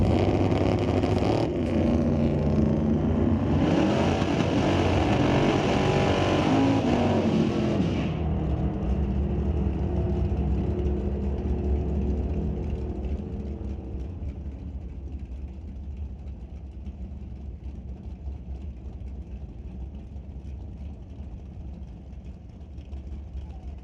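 Drag racing cars, a Ford Mustang and a 1970 Plymouth Duster, roar loudly with dense engine noise at a drag strip before the sound eases to a steadier, quieter rumble.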